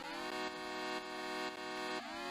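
Layered square-wave synth chord with heavy portamento, bright buzzy harmonics sustained loudly while the pitches glide between notes every half second or so.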